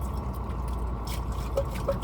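Water trickles and drips into a metal vessel being rinsed clean inside a truck, a soft, close, steady liquid sound with a few small splashes.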